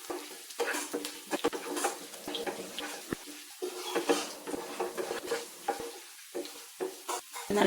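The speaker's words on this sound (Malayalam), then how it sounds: "ചെറുതായിട്ട് ചോക്കട്ടെ എന്നിട്ട് നമുക്ക് കറിക്കകത്ത് ഒഴിക്കാം" A tempering for lentil curry frying in a pan, with a quiet crackling sizzle and frequent short scrapes and taps as it is stirred close by, with no one talking.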